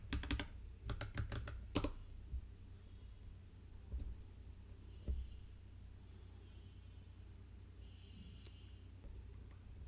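Quick bursts of keystrokes on a computer keyboard while a password is entered at an Ubuntu terminal, close and crisp, a fast cluster at first followed by a few scattered taps.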